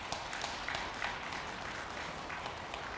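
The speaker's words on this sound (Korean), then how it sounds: "다시 한번 우리 정갑선 교무관장님께 큰 박수 부탁드리겠습니다." An interfaith prayer gathering applauds its head of education, Jeong Gap-seon, with steady, moderately faint clapping that fills the whole stretch without a break.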